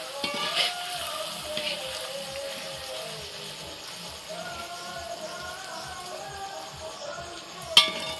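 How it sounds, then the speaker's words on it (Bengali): Luchi, puffed puri bread, frying in hot oil during a Janmashtami feast, a low steady bubbling sizzle with faint clatter of cookware and a sharp clink near the end. "দেখো এখানে লুচি ভাজা হচ্ছে"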